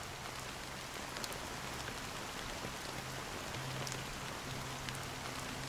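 Rain falls steadily in the Honkai Star Rail game world, a dense even hiss of drops spread over the whole stretch, with no voices.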